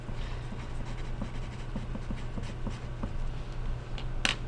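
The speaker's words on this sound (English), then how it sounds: "Now on the back, somewhere, I want you to write your name." A pen or pencil writes a name on the back of a sheet of paper, with quiet repeated scratchy strokes over a steady low hum and a sharp tap near the end.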